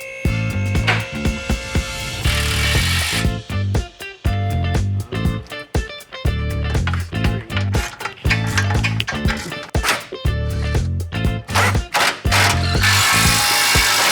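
Power tool and ratchet working the big black cross member bolts on a Chevy Spark during an automatic transmission replacement, with a loud sustained impact-style whirring broken by repeated rapid ratchet clicks over about fourteen seconds.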